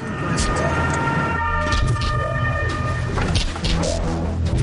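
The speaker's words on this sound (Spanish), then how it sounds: "docenas de coches de bomberos y ambulancias acuden a la escena" Sirens of fire engines and ambulances race to the scene of the Concorde airliner crash, wailing steadily and loudly alongside engine rumble and commotion throughout.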